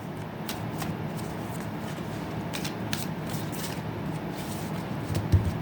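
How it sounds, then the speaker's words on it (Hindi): Tarot cards shuffled by hand in a steady riffling patter with occasional sharper flicks, close and fairly quiet, with no talking. "एक लास्ट शफल।"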